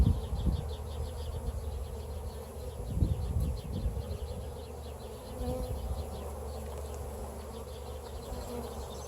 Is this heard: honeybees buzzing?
yes